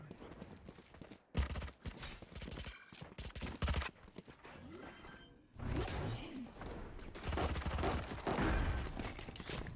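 Gunfire from the video game Valorant during a competitive match, rapid bursts of shots and thuds coming in clusters across the stretch, with commentary voices faintly mixed in.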